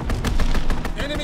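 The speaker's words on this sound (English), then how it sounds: "Strafing run inbound." A strafing run in Call of Duty: WWII, a fast rattle of about a dozen loud, evenly spaced gunshots, close and punchy, with an aircraft whine rising near the end.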